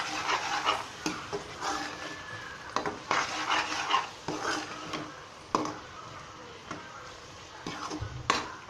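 Carrot halwa with almonds, cashews and raisins stirred in a pan: repeated scraping strokes of a spoon against the metal, with soft sizzling and occasional sharper clanks, close and fairly quiet.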